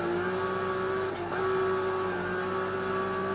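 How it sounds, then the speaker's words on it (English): A car engine in a driving video game drones steadily at a constant pitch, loud and continuous, with a slight dip midway. "You can hear the engine sound."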